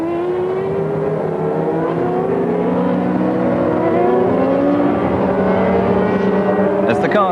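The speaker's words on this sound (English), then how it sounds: "As the cars take up position, Coulthard's engine stalls and the start is" Formula 1 cars forming up on the grid before a race start, with loud, steady engine drone and layered revving from several cars, sustained and close, under a commentator talking.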